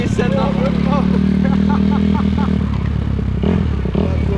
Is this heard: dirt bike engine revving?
yes